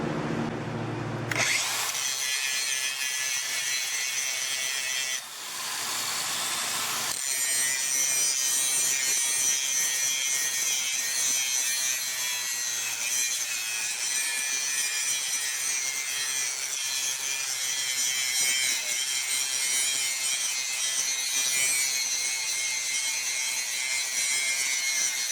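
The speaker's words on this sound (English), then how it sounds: "It's louder, it's faster, it's more aggressive than the 18 volt. That's that big 60 volt battery working" A Dewalt Flexvolt 60 volt 6 inch angle grinder cutting, a loud, steady, high-pitched grinding whine that runs continuously with a brief dip early on, close and alone.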